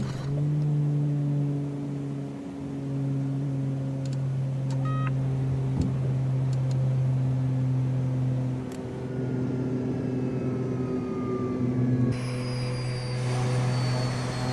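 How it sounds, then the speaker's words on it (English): Turboprop engines in a study-level flight simulator game, a loud, steady droning hum with layered tonal whines; higher whistling tones slide gradually downward in the later seconds as the engines begin spooling down, with no talking over it. "So you're going to hear it spool down"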